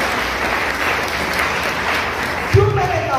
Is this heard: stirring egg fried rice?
no